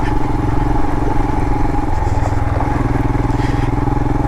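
A 2022 Royal Enfield Himalayan motorcycle rides over loose desert ground in southwest Utah, its single-cylinder engine throbbing loud and close in a steady, rapid pulse, with a little clatter and wind.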